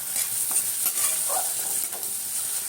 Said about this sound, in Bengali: ডালটাকে সুন্দর করে ভাজবো।